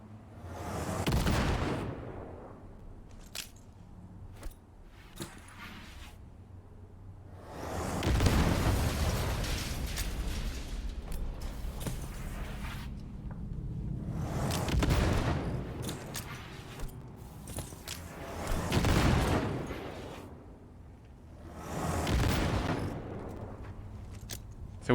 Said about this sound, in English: Explosive sticky grenade.